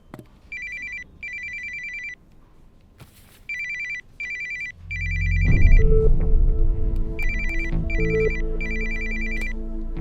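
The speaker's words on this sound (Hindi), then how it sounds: "फोन बज रहा है" A phone ringtone chirps in repeated short bursts, loud and close, while a low rumbling layer of music or noise rises partway through.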